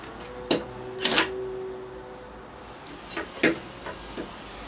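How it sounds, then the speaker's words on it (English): A carpenter's square is clamped down onto a board in a workshop. A few sharp, close clicks and clunks come at uneven intervals over about five seconds, with quiet between them and no speech. "might be good to put a square on there, clamp it down."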